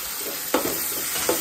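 Onion fried to golden brown sizzles with freshly added tomato in a hot pan, a steady close crackle broken by two quick scrapes of a stirring spoon.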